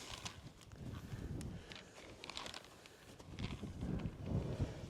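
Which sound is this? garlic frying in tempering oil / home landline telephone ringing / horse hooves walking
horse hooves walking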